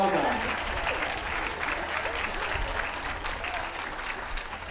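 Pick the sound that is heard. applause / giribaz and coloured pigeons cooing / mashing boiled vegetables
applause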